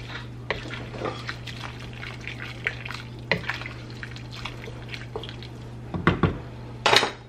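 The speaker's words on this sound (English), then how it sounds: "Let's stir this up." Soup with cilantro stirred in a pot, a spoon clinking and scraping against the metal with soft liquid sloshes over a low steady hum, a few sharper knocks near the end.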